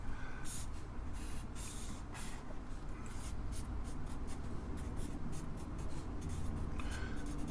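A pen scratches and scribbles across paper in steady repeated strokes, close and soft, a rhythmic rubbing hiss that runs throughout without speech.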